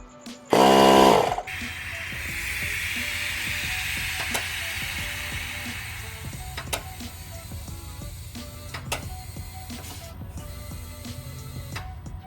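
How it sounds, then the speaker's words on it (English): A Milwaukee tire inflator seating the tire beads on a Honda Monkey motorcycle rear wheel opens with a brief loud burst, then settles into a steady mechanical whir with scattered clicks and knocks and no voices. "I'm using a Milwaukee tire inflator"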